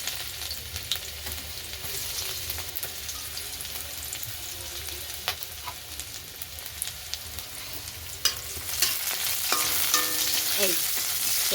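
Garlic fries in hot oil in a wok, a continuous close sizzle with occasional spatula scrapes and stirring clatter, growing slightly louder and busier toward the end.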